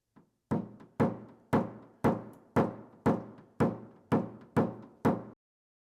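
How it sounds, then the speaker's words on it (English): A soft tip knockdown tool taps out a crushed car door dent in ten evenly spaced, firm thunks, each ringing briefly in the panel, close and alone. "with this soft tip knockdown, we're going to focus on the damage through here and through here"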